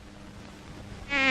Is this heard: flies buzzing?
yes